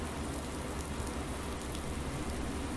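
Continuous in-game rain in Farming Simulator 19 during windrowing, a uniform hiss of falling drops at a constant level with no voices or other sounds.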